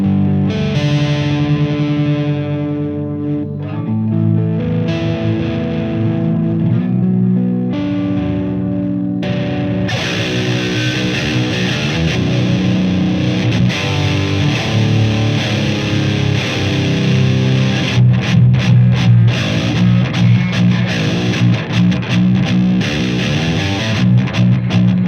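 Distorted electric guitar played through an Engl Powerball II amplifier with delay, a loud, sustained heavy tone with repeating echoes trailing the chords and notes throughout, with no talking.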